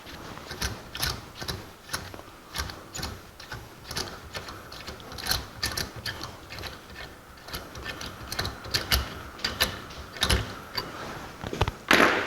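A tool runs a nut down a heat-distorted, boxed-frame bolt thread on a 1984 Jeep CJ7, giving a steady series of close, rapid mechanical ratcheting clicks in uneven bursts for about twelve seconds, with no talk.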